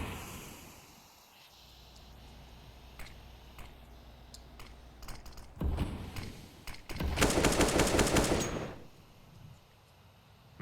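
AK-47 rifle fire in a Counter-Strike match on the Nuke map, brief bursts of rapid shots amid faint clicking keys, with a louder sustained volley near the middle.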